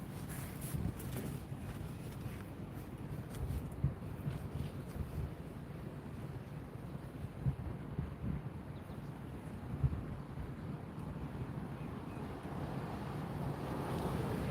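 Wind blows and swirls around an outdoor ice-fishing camp in freezing conditions, a constant low roar with gusty rumbling buffeting the microphone the whole time, no voices.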